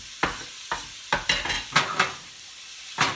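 Onion cooks in olive oil in a pan for shrimp fra diavolo, with a quiet sizzle under a run of sharp, close scrapes and clacks from stirring that come in irregular bursts. No one speaks.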